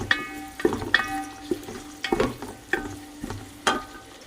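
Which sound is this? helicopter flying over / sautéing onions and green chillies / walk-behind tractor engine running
sautéing onions and green chillies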